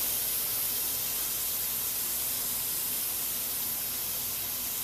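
An airbrush sprays paint freehand over paper with a steady, unbroken hiss that stays even and close for the whole stretch.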